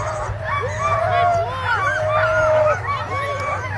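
A pack of sled dogs howls and yips together in overlapping, wavering cries just before a championship race start in Alaska, loud and sustained with crowd and announcer voices underneath.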